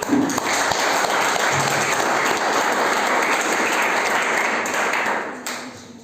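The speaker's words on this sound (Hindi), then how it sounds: "जोरदार तालियों से उनका स्वागत कीजिए" Loud, dense applause from an audience welcoming a motivational and soft skills trainer to the stage at an award distribution program, sustained for several seconds before tapering off at the end.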